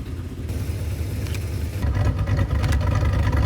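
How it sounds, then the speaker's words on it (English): A car rolls up in the rain, its engine a low steady rumble that grows slightly louder and closer partway through. "It's like a car rolling up"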